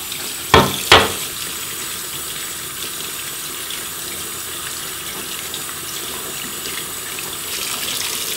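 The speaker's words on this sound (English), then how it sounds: "Wash it two times, get it nice and clean." Tap water runs steadily into a sink while makeup brushes are washed against a silicone spa mitt, with two sharp splashy knocks near the start before the even flow continues alone.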